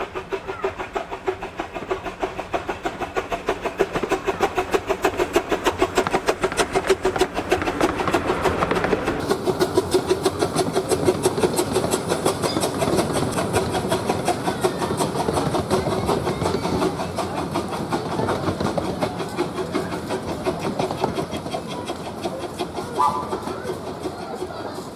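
A 1951 Ernest W. Twining-designed narrow gauge locomotive on the Kirklees Light Railway, a continuous rumbling run with rapid rhythmic chuffing and wheel clatter, steady and fairly close.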